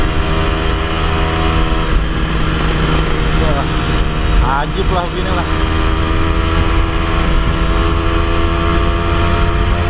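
A 1991 Yamaha RG Sprinter two-stroke motorcycle engine drones steadily while riding, loud and continuous with a buzzing tone, as a rider speaks briefly over it.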